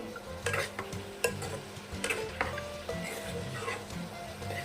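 Pigeon meat and chopped onions sauté together in a pan, a soft frying sizzle under frequent clattering spatula strokes against the metal, heard up close with no talking.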